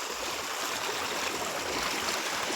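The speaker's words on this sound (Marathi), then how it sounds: "एकदम पूर आलाय जसा पूर." A flooded stream rushes past in a loud, continuous wash of water, steady and close for a few seconds, with no voices.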